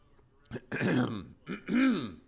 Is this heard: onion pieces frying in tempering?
no